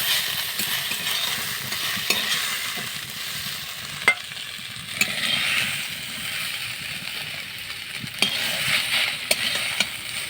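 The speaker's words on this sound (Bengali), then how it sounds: "এই যে শাক ভাজা প্রায় শেষের দিকে" Shushni saag greens are stir-fried in a pan with a spatula, giving a steady sizzle broken by sharp scraping clicks and taps of the spatula against the pan.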